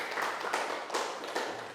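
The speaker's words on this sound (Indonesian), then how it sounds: "tepuk tangan dulu untuk temannya yang sudah menjawab pertanyaan Pak Guru tadi ya" Schoolchildren in a classroom clap for a classmate who answered the teacher's question, a brief, soft patter of many hands with a few stronger beats, heard from a little distance.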